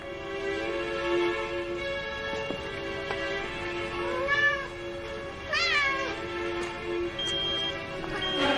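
A video game cat meows a few times over a steady electronic hum and tonal background, the calls rising and falling, moderately loud and close.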